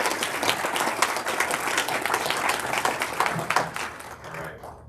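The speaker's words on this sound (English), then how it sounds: "give them a round of applause" An audience at a youth awards ceremony gives a full round of applause, loud and continuous with a crowd of overlapping claps, tapering off near the end.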